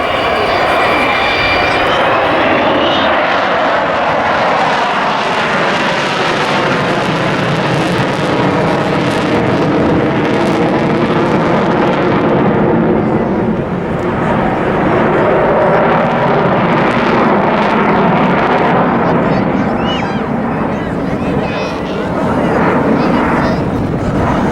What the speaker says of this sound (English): now in from the right, its final fly past. Let's all sit back and enjoy the sound of it